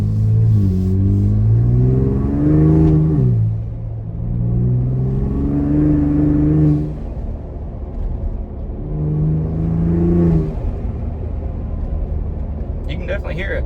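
A Ford EcoBoost engine in sport mode swells through a few rising and falling revs, heard steadily from inside the car, with a quieter idle stretch between pushes.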